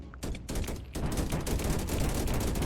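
Rapid bursts of gunfire from gunners in a video game, fast repeated shots that are loud and dense, with short gaps early on and then continuous automatic fire.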